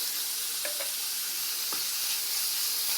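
Onion and raisins fry in a pan for a bourek filling, giving a continuous dense sizzle with a couple of faint utensil taps, close and steady without any voices.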